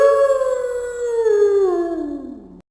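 A jackal howls in an animated Hindi story, one long loud drawn-out call that slowly falls in pitch and ends abruptly.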